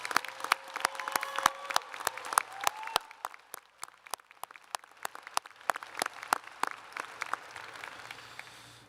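Applause for graduates at a Washington State University Spokane commencement ceremony, a moderate room of sharp individual claps that starts fuller and thins out, with a few voices faintly underneath.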